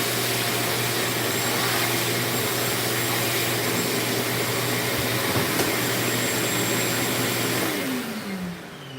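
A vacuum cleaner runs continuously while cleaning off both sides of a repaired piece, a loud steady motor roar and hum that holds level, then winds down and fades near the end.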